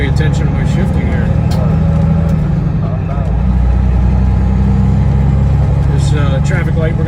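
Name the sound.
flatbed semi truck shifting gears while driving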